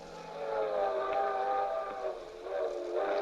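A circus train travels at night as a radio drama effect, with a sustained whistle-like tonal chord riding over a rolling rail rumble, fairly soft and continuous, swelling again near the end, with no voices.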